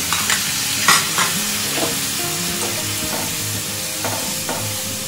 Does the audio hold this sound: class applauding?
no